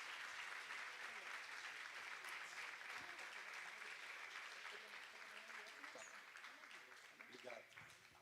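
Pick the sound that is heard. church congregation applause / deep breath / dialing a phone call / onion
church congregation applause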